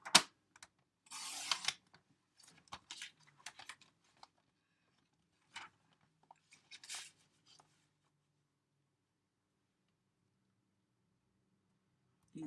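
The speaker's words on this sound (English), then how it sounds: "I'm going to cut 3 4-inch strips" Scissors or a paper trimmer cutting three 4-inch strips from a 12x12 sheet of cardstock for simple handmade cards: a few crisp snips and rustles up close, spaced by quiet gaps, fading to near silence.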